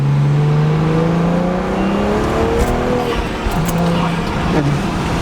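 A stage 2 tuned BMW 335i with the N55 turbo engine accelerates hard from inside the car, engine note rising loud and steady before a shift, with a voice briefly talking over it.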